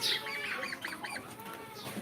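Aseel chicken chicks kept on a small hobby farm give faint, high chirping calls that come in a quick irregular series, close but quiet.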